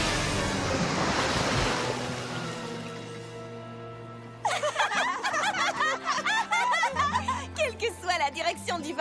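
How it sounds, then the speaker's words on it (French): Ocean waves in a My Little Pony Equestria Girls cartoon, a broad surf wash rolling loud in the opening seconds before music and talk take over. "L'océan, vaste, mystérieux, sauvage."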